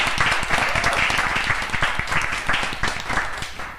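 Audience applause at a live chat and networking event, a dense steady burst of many hands clapping close by that holds for several seconds before easing slightly at the end.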